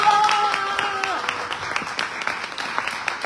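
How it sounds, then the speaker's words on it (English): An audience claps steadily in a burst of applause at an indoor celebration for children, with a voice speaking briefly at the start. "Let's clap it up for the boys and girls."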